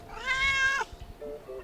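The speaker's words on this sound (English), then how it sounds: "Oh my god, there's two cats." A friendly cat on a night street in Lajes do Pico, Azores, gives one drawn-out meow up close, followed by a couple of shorter, softer mews.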